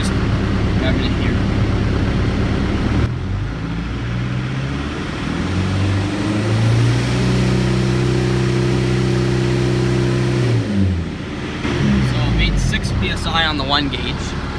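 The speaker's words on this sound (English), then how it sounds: "we'll see how much boost it makes just revving it here" A Kubota tractor's heavy diesel engine, with a boost leak, rumbles close by and is revved and held at high speed for several seconds before dropping back to a lower drone.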